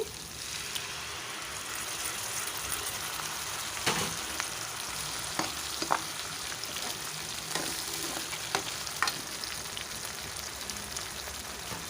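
Tomato puree going into a pan of frying onion masala for a meal maker capsicum curry, giving a loud, continuous close-up sizzle with scattered sharp pops and occasional stirring clicks, and no voices.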